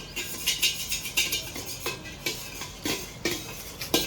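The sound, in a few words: grandmother mixing snack ingredients in a bowl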